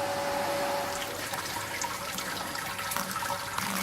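Wort trickling steadily during sparging of a Czech pale lager mash made from a small 3.3 kg grain bill, a continuous close splashing and running-water wash with no break.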